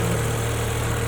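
A BMW M5 E60 with the S85 V10 idles under an open hood, giving a steady, close, even hum with a fine regular pulse and no talking.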